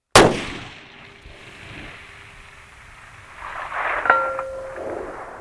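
A rifle fired at a steel target 1000 yards away, a sharp loud shot at the start, then quiet rumbling ambience and a faint metallic ring of the hit arriving a few seconds later.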